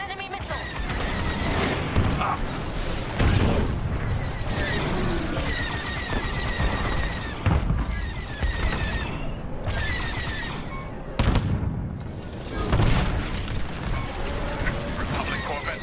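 Enemy starfighters in a Star Wars space dogfight fire rapid blaster volleys amid whooshing engines and booms, a dense, loud barrage with radio-style voices talking over the action.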